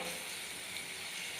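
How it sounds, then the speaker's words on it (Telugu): Mung bean sprouts frying in oil give a steady, dense sizzle with fine crackling, even and close, with no voices. "సో ఇవి కొద్దిగా ఆయిల్లో ఫ్రై అవ్వాలండి"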